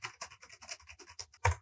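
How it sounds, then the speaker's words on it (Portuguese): An ASUS VivoBook 15 laptop keyboard is typed on, giving a quick run of about a dozen faint, close key clacks, with the rattle coming from the chassis, and a louder knock at the end. "O barulho não é nem na tecla. É no corpo do notebook."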